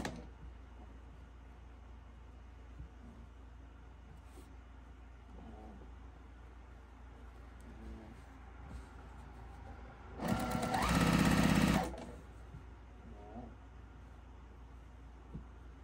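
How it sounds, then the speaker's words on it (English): Sewing machine stitching triangle quilt patches for a baby quilt, one short burst of rapid mechanical whirring about a second and a half long, close and clear against a quiet room. "Now I'm sewing together the four patches, or the triangle things."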